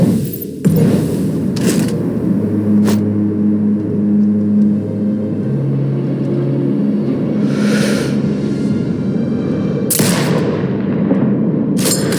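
Sniper rifle shots crack in the video game Sniper Ghost Warrior Contracts 2, a few loud, sharp, isolated reports spaced seconds apart over a low ambient rumble, no talk.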